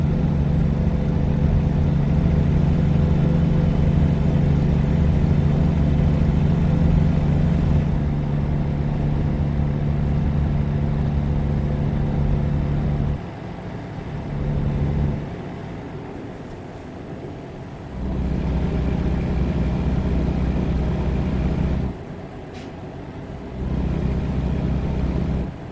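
A wood-grain station wagon engine in American Truck Simulator, a steady low rumbling drone that holds loud and even, then dips and returns several times as the revs drop and pick back up.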